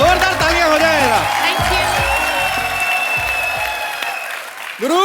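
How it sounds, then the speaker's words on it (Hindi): Loud studio audience applause with some cheering fills a Hindi comedy talk show set, with a voice speaking over the clapping and a voice rising again near the end. "जोरदार तालियां हो जाए जरा।"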